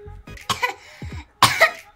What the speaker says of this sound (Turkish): Öksür bakalım.